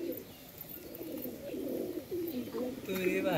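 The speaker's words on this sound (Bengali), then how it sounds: "ওইদিকে চলে গেছে দুটো পায়রা।" Pigeons coo softly in a low, rolling murmur at a pigeon keeper's loft, a little way off and fairly faint, with a brighter call near the end and some background noise.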